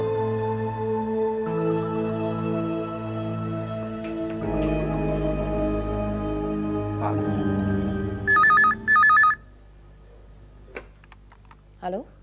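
Ringback tone of a telephone call being placed, two short bursts of steady ringing that stand out clearly after a stretch of background music and ambience, followed by quiet.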